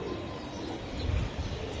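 Racing pigeons with BRPFC club tags coo softly in a loft, a faint low murmur of cooing under steady background hiss with no talk.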